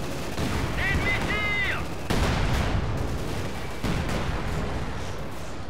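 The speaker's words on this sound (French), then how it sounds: "canon anti-char, on ouvre le feu." In the Company of Heroes battle on the Minsk front of Operation Barbarossa, an anti-tank gun fires sharp, heavy blasts over constant battlefield noise, with a brief radio-like chirp early on.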